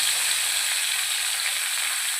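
Fresh coriander sizzling in hot oil in a kadai, cooked for a bitter gourd masala. It makes a loud, steady, close frying hiss with no breaks and no voices.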